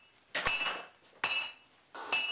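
A hammer strikes hot steel three times while a blade is forged, each blow a loud, ringing metallic clang that fades before the next.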